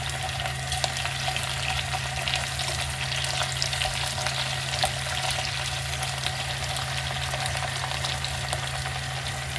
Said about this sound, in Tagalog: gigisa rin natin itong ating kamatis hanggang sa lumambot